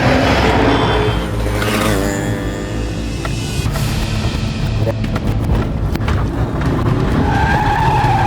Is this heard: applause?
no